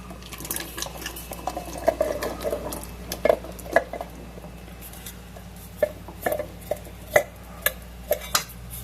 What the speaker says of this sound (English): we're going to go ahead and add in some pinto beans